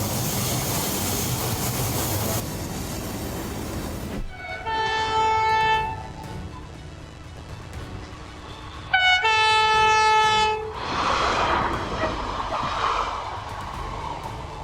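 A diesel locomotive train passes with a loud rumble of rail cars, while two long, sustained horn blasts sound close by, the second louder, followed by continuing wheel and engine noise.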